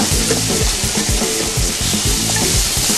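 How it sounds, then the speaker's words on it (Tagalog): Chicken sizzles and fries in a hot pan with mushrooms as it is stirred, a loud, steady hiss with soft rhythmic scraping and no talking. "ahalo lang natin sa ating chicken"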